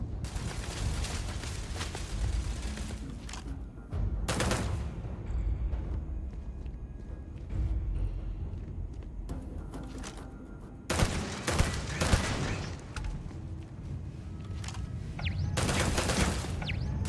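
Turret gunfire in the space game Starfield comes in loud bursts of rapid shots, breaking off and returning several times over a rumbling background, with no talking.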